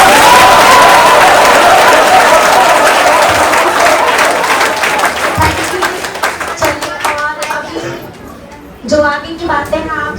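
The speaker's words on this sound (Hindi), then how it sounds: "तो एक बार सर के लिए जोरदार ताली बजाइए।" Loud audience applause at an award ceremony for a wellness center, dense clapping from a large crowd that gradually thins out, with voices and cheers emerging near the end.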